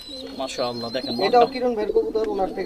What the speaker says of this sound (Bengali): এটা আর্মি কবুতর